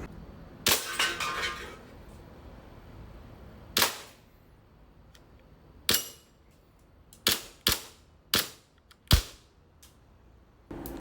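Sharp, snappy shots from a DoubleBell Glock 19 Gen4 airsoft gas pistol firing 0.20 g 6 mm BBs fire one at a time with irregular gaps, each a crisp crack with a quick metallic snap, about eight shots in total.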